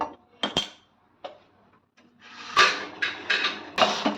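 A cooking pot is set down on a gas stove with a few sharp metallic clanks and knocks, followed by a louder rushing hiss and more clattering nearby, with no voices.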